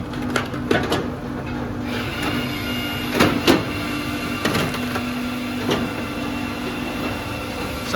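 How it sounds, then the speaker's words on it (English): A firewood processor's splitter pushes wood rings forward with repeated mechanical clunks and knocks over a steady engine drone, including a couple of sharper thumps at irregular intervals. "the splitter moves the rings forward so much"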